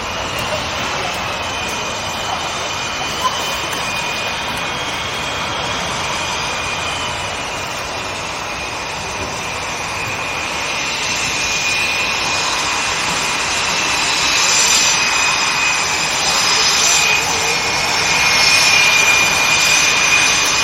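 Blue Angels jets taxiing at the Pensacola air show practice, heard as a steady, loud turbine whine and roar that swells slightly toward the end, with crowd and announcer voices faintly underneath.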